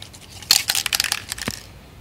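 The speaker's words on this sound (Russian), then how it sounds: "И когда мы ее взбалтываем" A spray paint can being shaken by hand while preparing to paint car wheel rims, giving a burst of rapid rattling clicks and hisses that starts after a brief quiet moment, with no talking.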